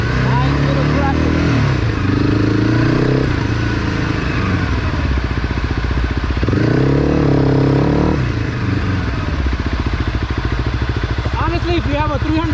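A Honda CRF 300 Rally motorcycle on the move gives a loud, close engine note that rises and falls as the rider rolls the throttle on and off, with a person talking over it.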